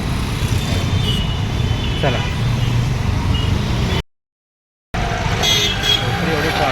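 Busy evening road traffic in an Indian city with cars and rickshaws, engine rumble and scattered horn toots around people talking, cut by a brief gap of silence.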